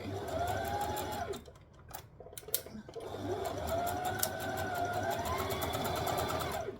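A domestic sewing machine stitches and back stitches a gathered dress seam, a steady close whirring hum that pauses briefly with a few clicks before running on again.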